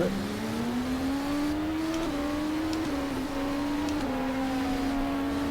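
A race car engine in the GTR2 sim at Circuit of the Americas drones loudly and steadily, its pitch climbing through gears with brief dips at shifts and small changes in revs, with no talking.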